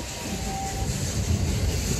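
A steam train runs through a redwood forest at Felton, California, giving a steady, dense rumble and hiss of rolling carriages heard from on board, with no clear pauses.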